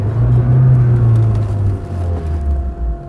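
An off-road car strains on a slope as its rear wheel spins, the engine revving in a deep, loud, continuous rumble that rises and falls slightly throughout, with no talking.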